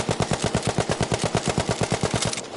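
Rapid automatic rifle fire in Battlefield V with a modded controller, a fast even rhythm of loud close shots in one sustained burst.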